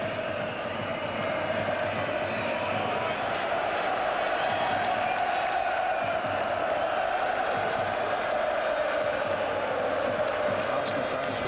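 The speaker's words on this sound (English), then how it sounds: "Arsenal fans with plenty to cheer at the moment." Arsenal football fans in a stadium at a European Cup Winners' Cup final against Parma, a constant loud crowd roar of cheering and chanting, with a commentator talking over it throughout.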